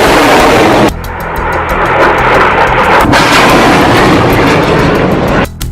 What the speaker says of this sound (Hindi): हमास एक के बाद एक 10 रॉकेट फायर करता है